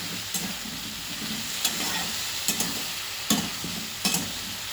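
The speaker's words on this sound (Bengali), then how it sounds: "এবার মশলার সঙ্গে আলুগুলোকে ভালো করে কষাচ্ছি" Potatoes stir-fried with ground spices and ghee in a pan, a steady close sizzle with a scrape or knock from the stirring roughly every second, no talk.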